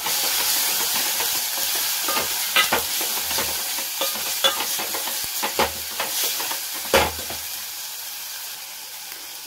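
Brinjal and potato pieces fry in hot oil in a pan, a steady close sizzle broken by repeated scraping stirs of a spoon against the metal, with no voices.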